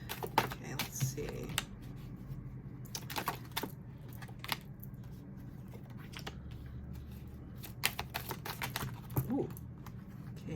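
Tarot cards are shuffled by hand in rapid irregular bursts of crisp flicks and riffles, close and fairly quiet, with occasional faint murmuring under the clicks.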